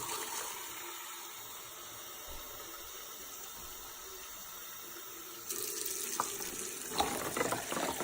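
Hot water runs steadily from a tap into a container, a constant rushing hiss that grows louder and splashier partway through, with a few clunks near the end.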